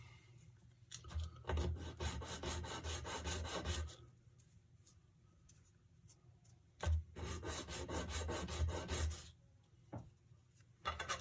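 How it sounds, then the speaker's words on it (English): Sandpaper of 200 grit rubs back and forth over small plastic N-scale model kit parts, giving two long bursts of steady raspy scratching separated by a quieter pause, close and fairly soft with no talking. "And then sand them with 200 grit"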